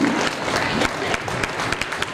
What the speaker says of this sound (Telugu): గట్టిగా చప్పట్లతో మరి వీరిని అభినందించాలి కదా